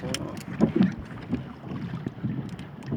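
Gusty wind buffets the microphone outdoors near water, with low rumbling bursts and faint splashing in the background.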